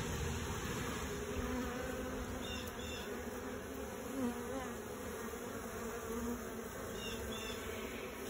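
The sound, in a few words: orphaned honey bees buzzing around comb frame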